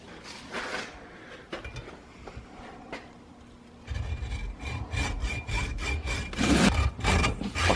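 A hacksaw rasps back and forth through metal on a tire, close and steady, with quieter, sparser strokes at first that become faster, louder, rhythmic cutting strokes in the second half.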